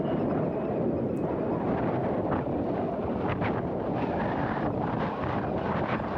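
Steady wind buffets the microphone at Marston Fields Fishery, a lakeside carp fishery, a continuous broadband rumble and hiss with faint gusting swells throughout and no talk.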